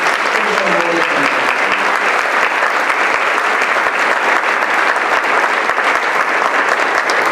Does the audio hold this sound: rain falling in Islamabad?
no